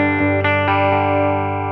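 Clean electric guitar played through a Fender-style amp on its cleanest setting and captured by a Lewitt microphone, ringing sustained chords with a few soft picked attacks, close and steady, with no voices.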